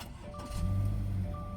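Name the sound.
2020 Subaru Crosstrek 2.0-liter FB20D engine starting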